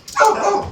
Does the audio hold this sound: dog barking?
yes